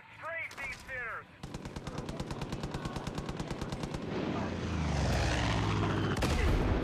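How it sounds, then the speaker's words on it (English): Far Cry 5 machine gun fire during an aircraft strafing run: a long, rapid, evenly spaced burst of loud shots, then a rising propeller aircraft roar. Brief voices come before the burst. "Take it out with a machine gun."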